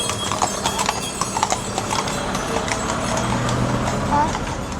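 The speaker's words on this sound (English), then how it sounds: "Look at these horses." Steady clip-clop of carriage horses' hooves on pavement in Ponta Delgada, Portugal, close by and fairly loud, with people talking in the background.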